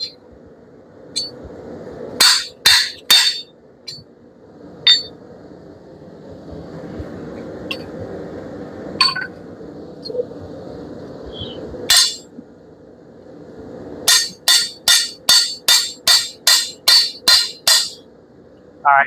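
Hot steel for a decorative fire poker is hammered on a cold anvil, with ringing metallic strikes in scattered pairs and then a fast steady run of about ten bright blows near the end, over a low background hum.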